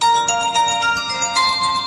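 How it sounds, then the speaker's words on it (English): A cell phone rings with a steady, bright electronic ringtone that is loud and close and plays continuously. "give this demonstration of how a phone rings constantly"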